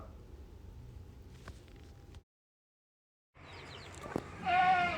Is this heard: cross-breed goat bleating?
yes